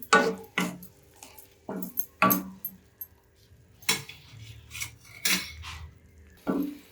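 Metal spoon scraping and clinking against a pan while mango halwa with ghee is stirred, irregular sharp knocks spaced through the stretch with quiet gaps between, no talking.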